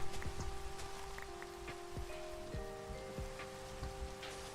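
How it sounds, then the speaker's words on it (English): Rain in the video game Animal Crossing, steady patter with distinct droplet plinks, heard close and even alongside soft sustained tones of game music. "Oh, the rain with the Animal Crossing music."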